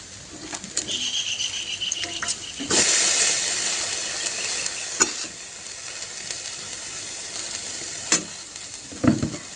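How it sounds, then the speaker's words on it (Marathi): Raw grated potato and sabudana khichdi sizzling and hissing steadily in a hot pan while a spoon stirs and scrapes it, close and continuous, with occasional clinks. "हलवून घेऊया हलवत करून घ्यायचं आहे आता तुम्हाला वाटेन बटाटा कच्चा घातला शाबुदाना खिचडी"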